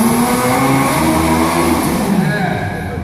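A full-size remote control car at a Disney World cars show revs its throttle in a steady, droning engine hum that holds for about three seconds, close and fairly loud, with people talking over it.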